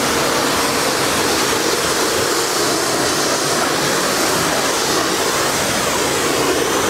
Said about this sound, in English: And then you just simply jet wash it off.